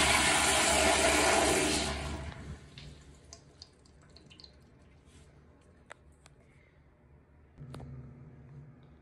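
A brand-new American Standard Afwell Millennium toilet in a newly opened L.L. Bean store restroom flushes with a loud, close rush of water for about two seconds. A quieter refill and trickle follows, and a faint swell of water returns near the end.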